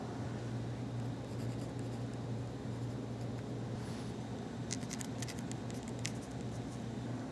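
A pencil marks a wooden tabletop piece for a drop leaf end table, faint short scratching strokes over a steady room hum, the quick marks clustered near the end.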